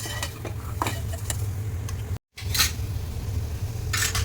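Green peas sautéing in a pan for peas pulao, with a steady low sizzle and scattered scrapes and clinks of stirring, plus a brief drop to silence midway.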